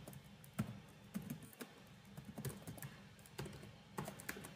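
Code being typed on a computer keyboard, a quiet, irregular run of close key clicks with brief pauses between bursts.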